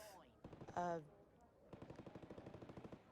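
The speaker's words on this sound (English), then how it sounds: "You can hear the gunshots going off outside." Gunfire going off outside in the video game Not For Broadcast, a rapid regular string of sharp shots like an automatic weapon, heard after brief speech-like sounds.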